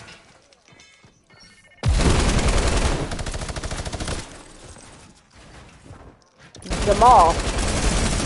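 Video game minigun fire comes as a loud, rapid, continuous stream of shots in two long bursts separated by a quieter gap, with a short spoken word near the start.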